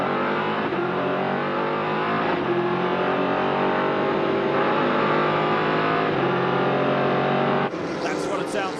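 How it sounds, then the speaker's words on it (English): Onboard sound inside a Daytona Prototype race car, with a loud, buzzing engine drone that holds steady and then drops at each gear change, heard close up from the cockpit for the whole stretch. "That's what it sounds like to sit inside a Daytona Prototype."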